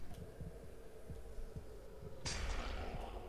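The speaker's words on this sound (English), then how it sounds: "And a slight heartbeat for music." A slow, steady heartbeat pulses as eerie background music in the horror game DreadOut 2, with soft low thumps over a droning hum. A hissing burst rises midway and continues to the end.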